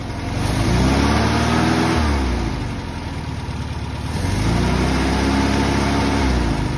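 A rebuilt air-cooled Volkswagen Beetle engine with a sticking carburettor throttle revs up twice, climbing and falling in two rising swells from a rough idle, close and loud, with no talk.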